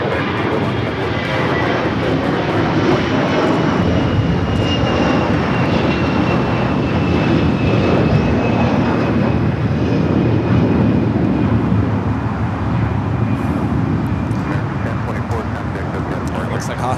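A jet airliner takes off at LAX with a loud, steady engine roar that holds for the whole stretch. Faint voices sit underneath.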